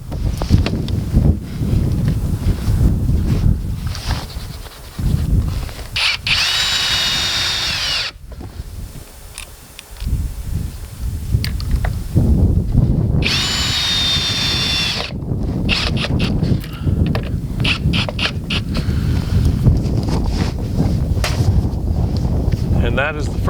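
A power drill fastens a head rod clamp while a Verticool Basic drop shade is being installed, loud whirring bursts in two long runs with someone talking between them and wind buffeting the microphone.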